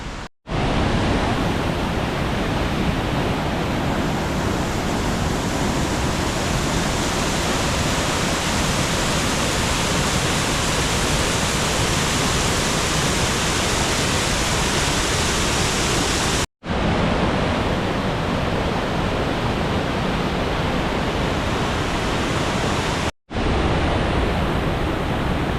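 A swollen river and waterfalls in Snowdonia, Wales, roar after Storm Claudia, making a loud, steady wall of rushing water that fills the whole stretch with only two brief dropouts.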